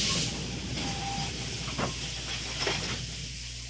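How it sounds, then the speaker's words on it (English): In the game Code: Realize, a steam locomotive lets off a steady loud hiss of steam along with brief whistle tones as it pulls into a station platform. "it lets out a roaring whistle that hurts my ears as an iron machine lets off steam and comes to a stop"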